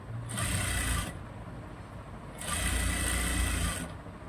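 A sewing machine stitches a hem on a blouse sleeve lining in two steady runs of about a second each, separated by a short pause. The sound is close and moderately loud, and there is no talking.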